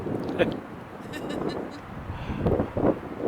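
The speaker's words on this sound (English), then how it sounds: "It's windy." Gusty wind buffets the microphone with low rumbling bursts, and a muffled voice is faintly heard beneath it.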